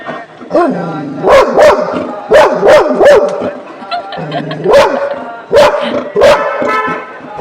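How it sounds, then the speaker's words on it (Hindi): A dog barks aggressively at another dog in rapid repeated bursts, loud and close, with short pauses between volleys and some whining tones mixed in. "ये कितना भौंक रहा है और कितना एग्रेसिव हो गया है दूसरे डॉग को देखकर"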